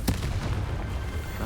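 A Confringo spell blast in Hogwarts Legacy, a sharp booming burst followed by a rumbling, crackling tail, loud and close.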